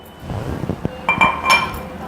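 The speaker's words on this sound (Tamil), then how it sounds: "அதற்கு பிறகு 2 தக்காளியை அதில் போட்டுக்கோங்க" Two tomatoes dropped into a mixer jar already holding chilies give a series of sharp clinks and knocks against the container, close and distinct, several in quick succession.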